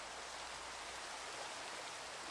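Steady, even rainfall in Minecraft, a soft continuous hiss of falling rain with no talk over it, quiet and unchanging throughout.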